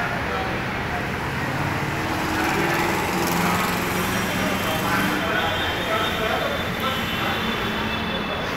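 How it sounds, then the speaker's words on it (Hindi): Mahindra 36 hp three-cylinder 4x4 tractor engine running steadily at close range, a continuous loud drone with no pauses, and someone talking over it. "फोर बाई फोर है ट्रैक्टर, बिल्कुल एकदम ऐसे चलेगा जैसे गाड़ी चला रहे हूँ, कार की तरह चलता है एकदम।"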